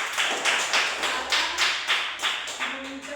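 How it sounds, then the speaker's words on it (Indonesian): A classroom of students clapping together for a presenting group in a maths lesson, a rhythmic series of about nine unison claps, close and fairly loud, with a brief voice near the end. "Oke, tepuk tangan untuk kelompok 1."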